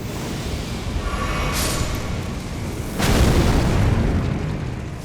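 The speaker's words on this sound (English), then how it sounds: "These young guys will kind of explode and take them out sometimes." Enemies exploding in Elden Ring Shadow of the Erdtree, inside a sunken chapel: a loud, close boom that swells into a broad rumbling blast, with a sharp burst midway, over steady game ambience.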